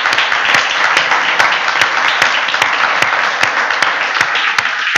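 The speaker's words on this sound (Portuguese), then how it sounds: "Dá uma salva de palmas para o nosso Deus." A church congregation applauding, loud sustained clapping from many hands, steady throughout with occasional sharper individual claps standing out.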